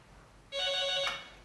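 A single electronic phone ring sounds at a delivery company office in Addis Ababa, Ethiopia, a bright tonal trill of about half a second over a quiet room, with no talk.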